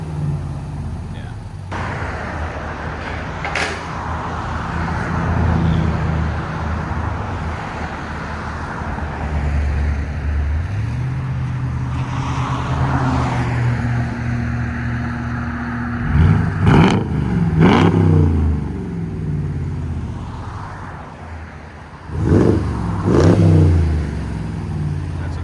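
A 2022 Jeep Wagoneer's 5.7L HEMI V8 with true dual exhaust and Valvetronic valves open, idling with a deep rumble before two sharp, loud revs rise and fall in quick succession.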